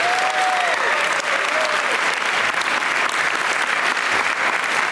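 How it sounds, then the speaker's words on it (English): Steady applause from a large audience at a school talent show fills the whole stretch, dense and continuous, with a few faint whistles near the start. "let's give him one more round of applause for that"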